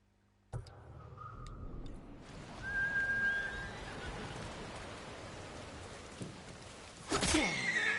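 A horse whinnies in the samurai game Ghost of Tsushima, a short high call over a rainy outdoor ambience with a brief whistle-like tone, followed by a louder rustling hit near the end.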